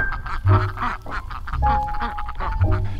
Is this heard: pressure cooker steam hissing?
no